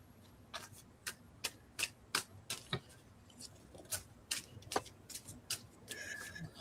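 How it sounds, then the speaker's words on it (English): Heavens Guidance oracle cards being shuffled, a faint series of crisp riffling clicks and taps at an irregular rhythm, close up in a quiet room. "I do need to shuffle in just a second."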